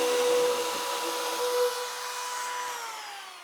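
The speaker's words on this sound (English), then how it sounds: "we're going to use the router to get a nice consistent round over on all the edges, top and bottom" A wood router rounds over the top and bottom edges of a piece of furniture, giving a steady, loud high-pitched whine with a sustained tone that drifts slightly lower as the bit takes load, with no talking.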